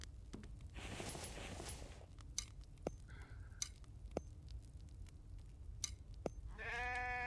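Sheep bleat in a survival video game, a few short, fairly faint calls heard indoors against a steady game ambience with scattered clicks and taps.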